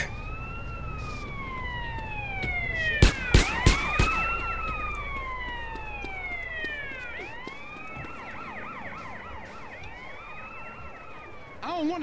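Police car siren wailing in GTA San Andreas, rising and falling tones overlapping as several units pass, with a few loud bangs near the start amid steady traffic rumble.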